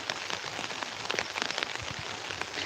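Steady rain falls on surfaces in a village, a dense, even hiss of many drops with scattered louder spatters. It stays constant and fairly soft throughout, with no voices.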